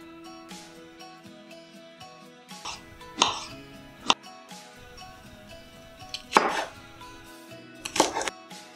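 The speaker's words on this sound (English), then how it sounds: "I'm going to peel and chop." Peeling and chopping avocado and mango on a kitchen board, with a few sharp knife taps and scraping strokes spaced out against a quiet background.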